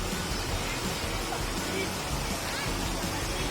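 A waterfall at Khiri Wong village pours with a constant broadband rush, steady and fairly close, with no clear voices over it.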